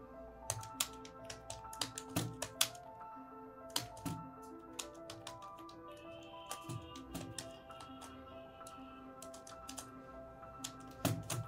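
Close, quiet typing on a computer keyboard as Urdu text is entered, with irregular bursts of key clicks and occasional louder keystrokes and no voices.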